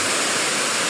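Rushing water at Tai Tam Reservoir North pours as a steady, loud, hissing roar, close and continuous like a waterfall, with no voices heard.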